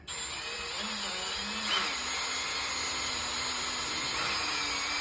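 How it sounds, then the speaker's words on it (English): Variable speed drill running a cutter on a stubborn wheel nut of a Jaguar XF, a steady high-pitched whine with a sustained grinding hiss, close and continuous. "This is a variable speed drill, and just by squeezing the trigger you can determine what speed you want to cut at."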